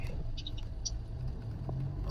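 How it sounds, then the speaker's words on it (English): Paint cans and loose junk roll and rattle in the back of a truck on a bumpy road, a constant patter of light knocks and scrapes over a low road rumble. "It's just all the crap rolling around in my truck,"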